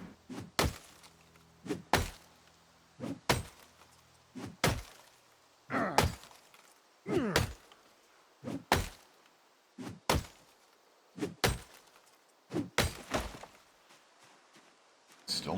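An axe chops in Project Zomboid with a long run of heavy, evenly spaced thunks, each a sharp whack that fades quickly, repeating steadily and loud.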